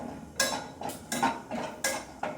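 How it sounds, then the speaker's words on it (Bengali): Peanuts being fried in a pan, heard as five or six sharp scraping, rattling strokes of a utensil against the pan in a loose rhythm, close and clear with no talk. "এবার বাদামটা ভেজে নিচ্ছি"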